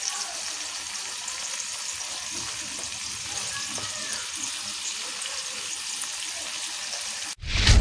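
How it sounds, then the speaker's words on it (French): Palm weevil larvae frying in their own oil, giving a steady, dense sizzle that holds close and even throughout, with a brief louder clatter at the very end and no talking. "Et on va rissoler un peu dans l'huile avant"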